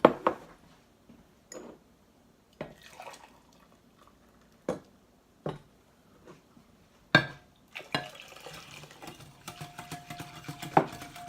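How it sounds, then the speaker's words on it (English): Jello Jigglers mix is stirred in hot water, giving sparse, faint clinks and taps of a utensil against a bowl at irregular intervals, with a busier patch of soft scraping near the end. "So we're going to go ahead and stir that up."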